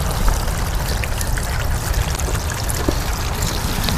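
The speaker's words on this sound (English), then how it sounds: "You can see that area there where the water's flowing out." Water flows steadily out of a rock formation at Two Stack Rock in Massanutten, a continuous broadband rushing and trickling wash that stays even and fairly close throughout, with no voices.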